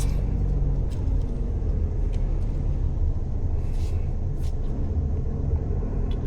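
A Mitsubishi Delica D:5 turbo, in manual mode and second gear, fills the cabin with a steady low engine and road rumble. The drone is loud and continuous throughout.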